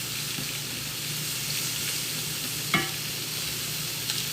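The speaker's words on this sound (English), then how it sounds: "I'm gonna stir my mushrooms" Mushrooms are stirred in a frying pan with a little garlic salt, making a continuous close sizzle with soft scraping from the utensil and one sharp clink partway through.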